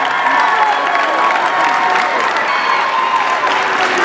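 A crowd at a cheer district awards ceremony applauds loudly and continuously, with cheering and some high youthful shouts mixed into dense clapping from a large audience.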